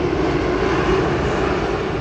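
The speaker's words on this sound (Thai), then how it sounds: "เครื่องบิน เอเมเรตครับ" An Emirates airliner passes overhead at an engineering faculty campus in Thailand, a steady, loud broadband engine roar that holds evenly through the whole moment with no voices.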